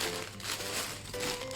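Plastic bags holding Lego pieces for a Lamborghini Countach set crinkle and rustle softly as they are handled, a faint continuous crackling with no voices.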